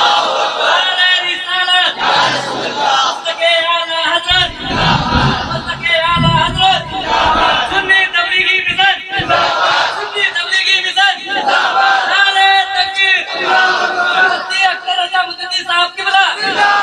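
A large crowd at a religious gathering chants a loud collective response to the Naara-e-Takbeer slogan, rhythmic surging shouts from many voices repeating in waves, close and forceful throughout.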